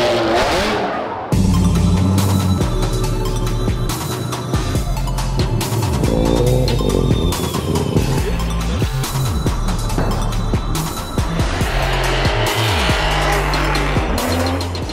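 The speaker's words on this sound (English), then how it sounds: "They even do donuts to warm up their tires" Formula Drift competition cars sliding and doing donuts, loud roaring engines revving hard with long squealing tire screeches and shifting engine pitch throughout, close and continuous.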